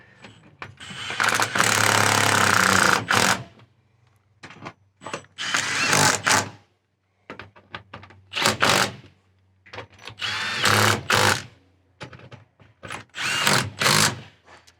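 A power tool bolts cabinets to the inside wall of a van, driving fasteners in several loud bursts of varying length, with brief clanks and handling noise in the gaps between runs.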